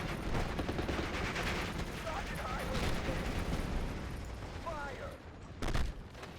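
Battlefield gunfire in Steel Division: Normandy 44, a World War II Normandy game, with dense rattling shots and rumbling explosions over a thick, continuous combat din and a sharp louder burst near the end.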